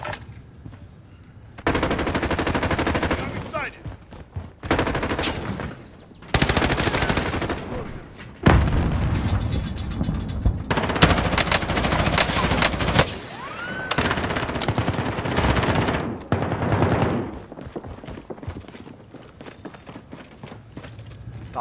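Bursts of automatic rifle fire rattle in long, loud sustained volleys during a Call of Duty trios match in a quarry, with short gaps and single shots between them and no voices over the shooting.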